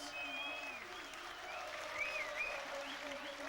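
A crowd applauds at a Doncaster versus Castleford rugby league match, with steady, distant clapping from the stands for a few seconds and faint voices and whistles carrying through.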